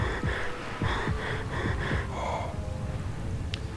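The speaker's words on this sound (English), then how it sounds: "the heavy breathing never stops" Heavy breathing of the player character in the video game Ghost Master, a steady series of raspy gasping breaths repeating in close, even rhythm, ending with a faint click.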